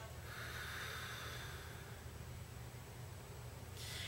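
A person takes a deep breath followed by a long, drawn-out exhale while doing a standing meditation, a steady airy rush close to the microphone that holds for several seconds.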